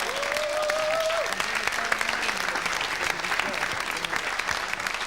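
Audience applause fills a colloquium on racism, a dense, steady roar of many hands clapping throughout, loud and close, with a brief whistle-like tone near the start.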